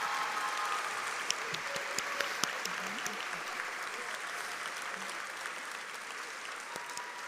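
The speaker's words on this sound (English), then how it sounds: "Please join me in a round of applause for our esteemed Natchez faculty and staff." At a high school graduation ceremony, the audience applauds faculty and staff with a dense, sustained clapping of a large crowd. It sounds moderately distant and stays steady throughout.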